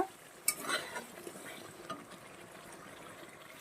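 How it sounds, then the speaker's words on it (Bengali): Spiced koi fish curry masala sautéing in oil in a pan, with a soft scrape of stirring and a sharp clink near the start, then a quiet, low sizzle that continues faintly. "বেশ কিছুক্ষণ ধরে আমি কষিয়ে নেব"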